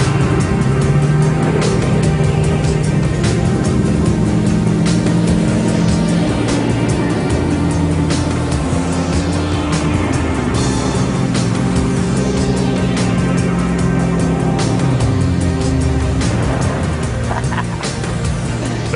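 A Hummer labours uphill and bogs down, its engine drone steady and loud for the whole stretch, with shifting tones as it strains, and no talk over it.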